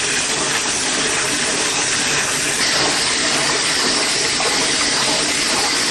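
Water runs hard and steady from a tap, rinsing an animal pelt in a wash tub. The rush is loud and continuous and fills the whole stretch with no talking.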